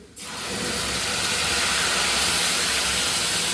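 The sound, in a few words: tomatoes added to a hot cooking pan, sizzling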